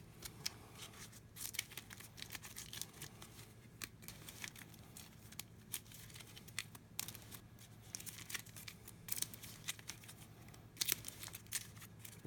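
Soft, quick papery flutters and riffles of playing cards being shuffled during a Villainous board game come in short bursts against a quiet background.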